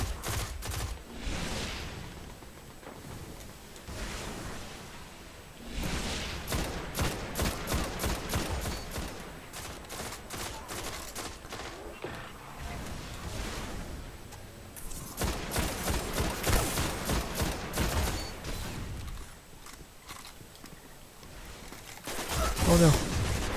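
Gunfire in the PS4 shooter Destiny: dense volleys of rapid shots and bursts that come and go over about twenty seconds, mixed with game sounds and a player's voice talking.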